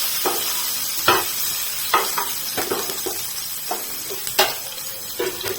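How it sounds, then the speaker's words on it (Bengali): Green chilli and crushed garlic fry in a pan with a constant sizzle, broken by repeated scraping stirs of a spatula at an uneven, unhurried rhythm, close and clear with no talking. "এবার এটাকে হালকা করে ভেজে নেব।"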